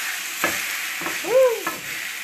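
Food in a pan of butter and oil gives a steady close sizzle, broken by a couple of scraping knocks and a brief squeaky utensil slide as pieces are turned over.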